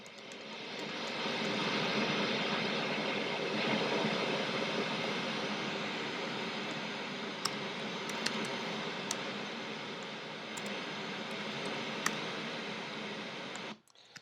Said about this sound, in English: turn pink noise on.